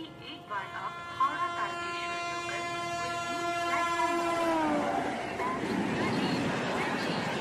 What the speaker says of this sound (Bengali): ঠিক তখনই ট্রেন ঢোকে প্ল্যাটফর্মে।